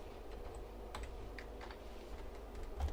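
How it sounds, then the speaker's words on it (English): Computer keyboard keys tapped softly at close range as a password is typed, a quick irregular series of light clicks over a faint background hum. "And we have to type the password again."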